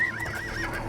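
A horse in the video game Oblivion gives a short, near, high whinny with a wavering pitch that lasts about a second, with faint hoof clatter beneath it.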